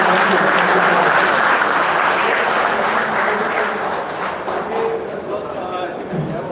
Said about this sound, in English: we shall all give them, a big round of applause for making this happen